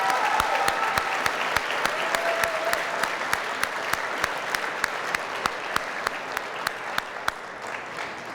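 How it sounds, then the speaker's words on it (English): Steady, sustained applause from an audience at a 2015 education celebration rally, with rhythmic clapping that sounds near and fairly loud and sharp individual claps standing out throughout. "Let's give another round of applause."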